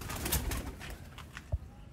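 Breeder pigeons, high-flying birds kept in a loft, coo in a soft continuous murmur, with a low throaty pulse rising near the middle and one short, deeper coo toward the end.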